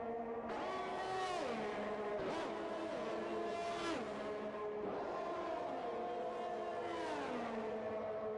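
Formula 1 race car engine in the F1 2021 video game at Baku, a loud, close high-pitched whine that climbs and drops repeatedly through gear shifts, steady and unbroken throughout.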